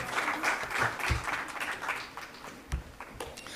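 Audience applause at a theatre award ceremony honouring a lifetime achievement, a dense steady wash of clapping that fills the short stretch on its own.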